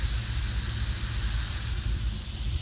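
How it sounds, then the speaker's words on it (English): A continuous, broad hiss of steam from a steam locomotive's injector runs steady and loud throughout, with a low rumble underneath and no pauses. "It changes to just steam, and that's just steam from the injector."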